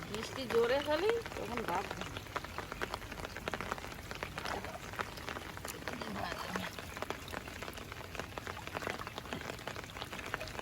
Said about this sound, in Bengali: বৃষ্টি বৃষ্টি হচ্ছে তো